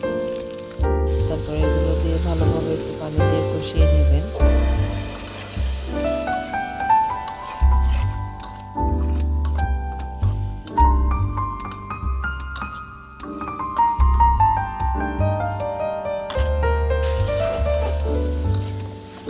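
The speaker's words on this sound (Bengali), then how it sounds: "কষিয়ে নেওয়ার পরে ভালোভাবে একটু কষিয়ে নেবেন" Shuri dried fish frying with chili powder, spice mix and salt in a pan for a greens dish, giving a steady sizzle throughout, partly masked by louder background music.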